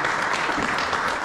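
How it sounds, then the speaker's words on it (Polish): Audience applause at a Polish poetry evening, a dense, steady wash of clapping that fills the whole short moment without pause. "Z ogromne brawa!"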